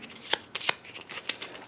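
Playing cards shuffled for a card-drawing game, a few quick crisp riffle bursts in close succession, fairly quiet and close, with no talk over them.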